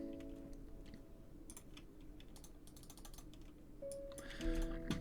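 Soft, irregular keystrokes on a computer keyboard while playing League of Legends, with quick clicks scattered throughout, fairly quiet over a steady hum of game sound in the background.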